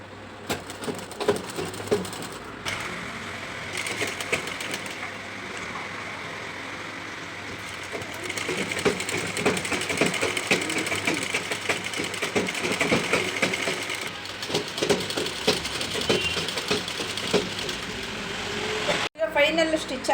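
A sewing machine stitching blouse sleeves runs in a continuous whirring, rattling drone with small variations in speed, heard close up under a voice that talks at intervals, stopping abruptly near the end.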